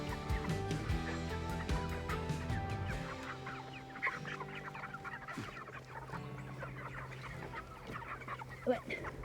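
Chickens cluck in a steady, overlapping chorus, with occasional louder calls rising from the flock nearby.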